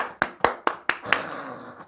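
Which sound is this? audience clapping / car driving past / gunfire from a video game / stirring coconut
audience clapping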